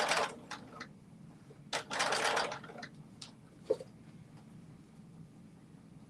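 A sewing machine stitches alongside a zipper in short bursts of needle chatter, with one longer run near the start and brief stops between, close and fairly quiet.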